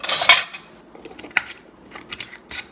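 A metal screw band is put onto a glass canning jar holding bread and butter pickles, giving a few sharp metallic clinks and light scraping taps, close and clear, with quiet gaps between.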